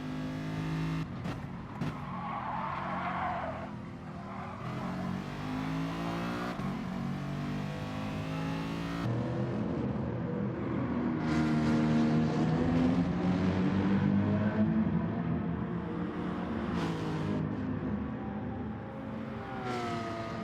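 Porsche race cars in a GR4 endurance race within a racing video game, engines revving and rising in pitch through a corner with a slight slide, loud and continuous, with other cars audible around them.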